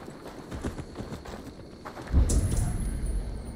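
Hooves clip-clop in a steady rhythm in the video game Assassin's Creed Valhalla, growing louder and heavier partway through as the horse moves closer.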